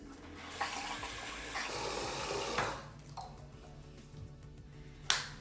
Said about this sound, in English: So I'm gonna get my face wet